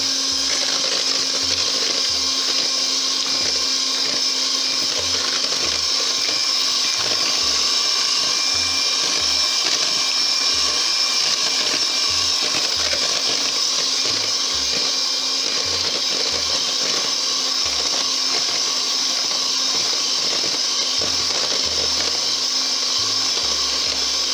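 A steady, loud electric mixer whirs continuously while mixing Black Forest cake batter ingredients, a constant motor drone with no pauses.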